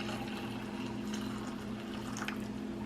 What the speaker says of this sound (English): We're just gonna pour it in here like so.